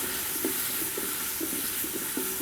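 Shallots, tomato and curry leaves sauté in a pan for a fish fry masala, with a steady close sizzle and regular scraping stirs from a spatula about twice a second.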